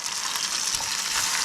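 Chanterelle mushrooms frying in an overly hot pan outdoors, a loud continuous close sizzle with crackling spits and no talk.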